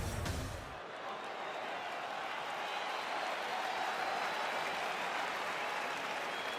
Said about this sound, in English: crowd getting excited as this fight gets underway